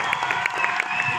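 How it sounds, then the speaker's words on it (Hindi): An audience at the Ratnawali festival at Kurukshetra University applauds and cheers, a dense steady wash of clapping heard briefly and loudly. "एक बार जोरदार तालियां"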